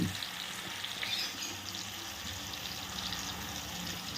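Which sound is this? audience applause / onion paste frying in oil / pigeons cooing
onion paste frying in oil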